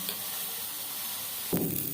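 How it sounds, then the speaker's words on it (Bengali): Pointed gourd fries with a steady sizzle filling the clip, with a brief scraping stir near the end. "পটল ভাজা হয়ে গেছে"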